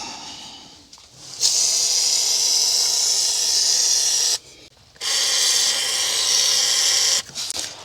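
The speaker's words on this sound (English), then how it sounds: "I'll go for WD-40." WD-40 sprays from an aerosol can into the engine bay of a 1973 Mercedes 450SL in two long bursts of sharp hissing, the second after a short pause, followed by a brief final spritz, close to the microphone.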